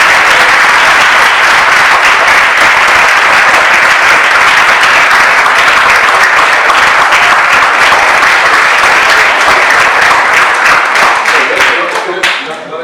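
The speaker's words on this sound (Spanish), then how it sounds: "damos un fuerte aplauso." Audience applause at the end of a talk given to upper-secondary students: loud, dense clapping that holds steady for about twelve seconds before tapering off at the close.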